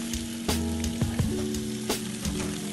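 Ribs fry in three tablespoons of oil in a tall pot, making a loud, dense crackling sizzle with a few clanks as the meat is moved around, close up and alone.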